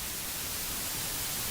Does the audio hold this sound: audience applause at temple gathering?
no